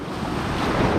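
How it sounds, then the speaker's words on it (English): Big ocean waves breaking at a beach, a loud, close wash of surf with wind buffeting the microphone, rising slightly toward the end of the short moment. "the waves are big for you today"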